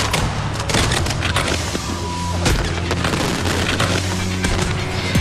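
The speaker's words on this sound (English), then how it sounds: "The fireworks started too soon." Fireworks burst continuously in a dense barrage of booms and crackles, loud and sustained with no pause.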